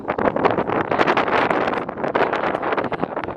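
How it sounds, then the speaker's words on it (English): Strong wind buffets the microphone in a loud, continuous roar with gusty surges, filling the whole clip without any voices, on a trail near Quito, Ecuador. "It's extremely windy"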